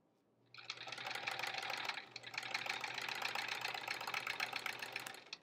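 A sewing machine runs steadily for about five seconds while a quilt is pieced, its fast mechanical whir close and continuous with a faint low hum beneath, briefly dipping around the two-second mark.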